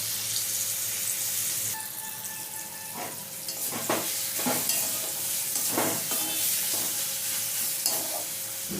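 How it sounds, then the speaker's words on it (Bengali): Mango pieces mixed with turmeric and salt fry in a pan for mango dal, giving a constant close sizzle broken by several scraping stirs of a spatula. "আমটা একটু ভালো করে ভেজে নেব।"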